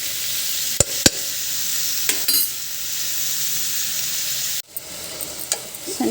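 Bottle gourd curry with dal sizzling in a pan and being stirred, a steady frying hiss broken by a few sharp clinks of the spoon and a sudden drop in the sizzle partway through.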